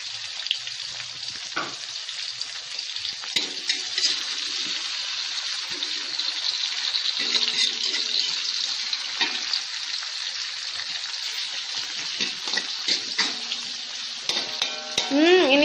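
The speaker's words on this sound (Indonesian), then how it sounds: "Kita tumis sampai benar-benar harum." Aromatics sautéing in a pan for stir-fried water spinach with oyster sauce, a dense continuous hiss of hot oil with occasional spatula scrapes and clicks, close and steady throughout.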